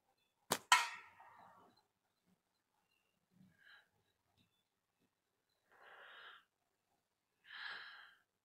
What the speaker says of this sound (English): Oh, first shot's a miss.